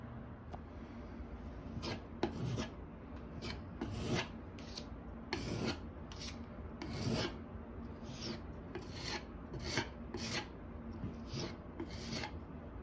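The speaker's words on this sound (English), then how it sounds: "I'm ready to sand it before painting." Dried wall filler being sanded by hand to prepare a wall for painting: repeated close rasping strokes in an uneven rhythm, with no talking.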